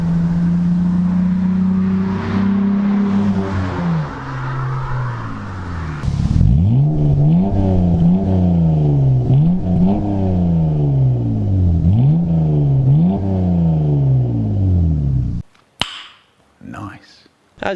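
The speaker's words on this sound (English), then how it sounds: "we got a new exhaust on the Eclipse." A Mitsubishi Eclipse with a new aftermarket exhaust and burnt tip revs repeatedly, each throttle blip rising and falling in a steady rhythm, loud and close, after an initial sustained engine drone.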